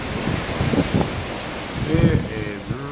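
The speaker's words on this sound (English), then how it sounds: "I just walked out the door and we just got a big gust of wind" A strong gust of wind from Hurricane Irma roars past outdoors near palm trees, buffeting the microphone in loud, surging blasts with a rumbling low end, while a voice briefly speaks over it.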